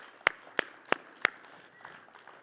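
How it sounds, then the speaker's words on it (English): Applause from a festival talk audience: a few loud, evenly spaced claps up close, fading into a faint patter of further clapping. "let's give them a big round of applause."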